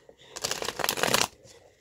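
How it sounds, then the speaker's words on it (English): A Midnight Magic Mushroom tarot deck is shuffled close up in one quick riffling burst of about a second of dense papery flutter, alone. "I started shuffling"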